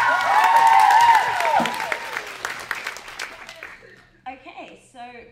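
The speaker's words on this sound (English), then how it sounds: "Can we give a round of applause?" At a YA book fan festival, a cheer rises for a reader, then a crowd claps and whoops, the applause thinning and fading over a few seconds before someone starts to talk.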